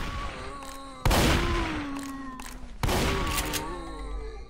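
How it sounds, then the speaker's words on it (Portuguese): A shotgun fired in a first-person Resident Evil 2 mod built on Half-Life 2, two loud, close blasts spaced about two seconds apart, each followed by a decaying ringing tail over low game music. "Eu vou na escopeta."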